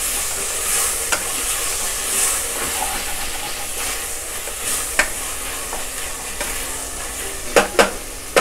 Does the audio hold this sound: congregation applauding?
no